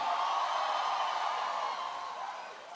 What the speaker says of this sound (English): Can everybody give Judy a big round of applause for the great introduction?